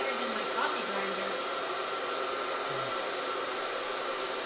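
Home coffee bean roaster running with beans stirred for an even roast, a steady loud airy whir like a hair dryer or vacuum that holds constant throughout with no talk over it.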